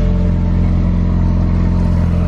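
A car engine idles steadily while warming up, a close, loud, even drone with a low throb and no revving or voices.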